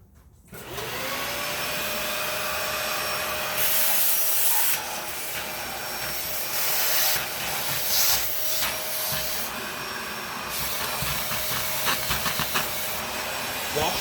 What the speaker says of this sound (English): I have a Dyson here, and I'm going to vacuum up the carbon dust